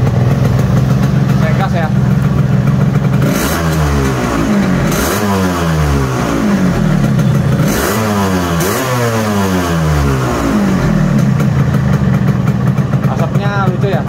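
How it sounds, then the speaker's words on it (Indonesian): A Yamaha RX King two-stroke motorcycle engine idles loudly and steadily, with a couple of throttle blips rising and falling midway, close to the microphone while a person speaks briefly. "waktu langsamnya segini, waktu idolnya."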